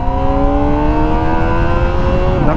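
Kawasaki ZX-25R SE 2024 motorcycle with an inline four-cylinder engine, close and loud, revving to a high, rising whine that sustains smoothly before dropping off sharply at the end.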